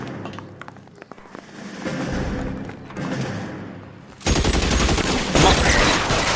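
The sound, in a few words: gunfire in L.A. Noire video game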